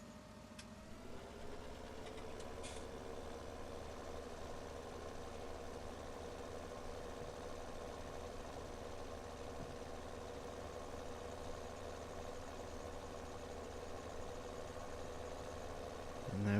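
A tractor engine idles steadily on a farm after the harvest, a constant low droning hum that stays even and unbroken throughout, fairly close, with no talking.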